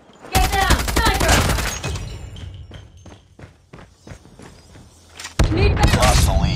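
Gunfire in a video game firefight, a burst of dense rapid shots opening, then scattered single cracks and thuds with footsteps, before another heavy volley closes; game voices call out over it.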